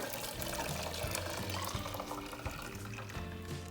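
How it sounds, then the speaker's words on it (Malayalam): Grape juice being poured into another juice gives a steady, close, continuous splashing stream that lasts the whole stretch with no talk. "ഈ ഒരു മുന്തിരി ജ്യൂസും കൂടെ നമ്മൾ നേരത്തെ മാറ്റി വെച്ചിട്ടുള്ള ഒരു ജ്യൂസിലേക്ക് ഒഴിച്ചു കൊടുക്കാം"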